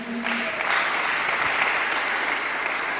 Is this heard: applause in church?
yes